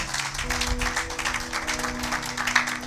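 A church congregation applauds during a worship service, a dense, continuous patter of many hands clapping with a steady low hum beneath, loud and close throughout.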